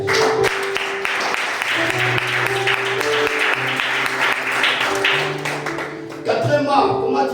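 A church congregation applauds steadily for several seconds, a dense wash of clapping over sustained organ or keyboard chords, with a brief livelier swell near the end.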